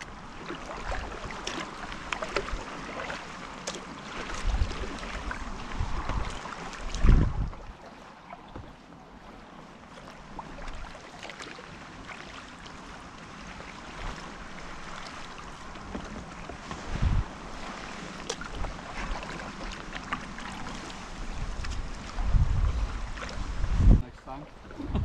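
Steady wind and water wash around a kayak on the River Wharfe at Otley, with occasional splashes and paddle strokes; a voice talks now and then.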